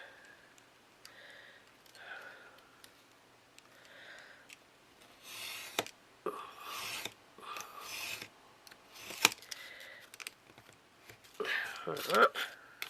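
Scissors cutting through a 12 by 12 sheet of craft paper for a small 3 by 3 picture book, a few close, crisp snipping and rasping strokes in short bursts after a quiet stretch with some soft handling.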